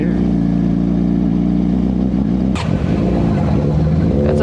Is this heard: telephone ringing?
no